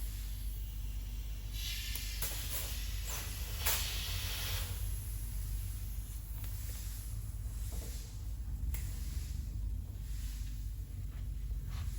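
Compressed air hisses steadily to inflate and slide a replacement grip onto a handle of fitness equipment, a continuous close blowing with brief louder bursts and no talking.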